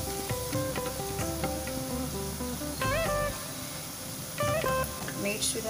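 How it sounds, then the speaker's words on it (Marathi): Onion frying in a very hot kadhai with curry leaves, a bright hiss and sizzle with occasional stirring scrapes, heard close while a voice talks over it. "कढई चांगलीच गरम आहे, त्याच्यामुळे आपला कांदाही पटकन शिजला जाते."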